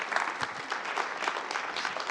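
Round of applause from the audience at an environmental storytelling summit, a steady dense patter of many hands clapping close and fairly loud throughout.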